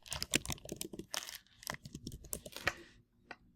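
Typing an email address on a computer keyboard, a quick run of close, crisp key clicks in irregular bursts that stop short near the end, with no talk over them.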